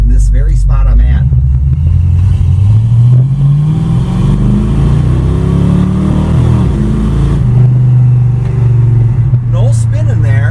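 A 1980 Dodge with a 318 Mopar V8 takes off in a traction bar test, its loud, close engine roaring and climbing in pitch as it accelerates, then easing into a steadier drone.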